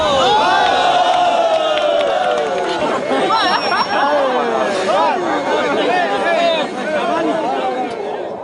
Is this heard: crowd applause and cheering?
yes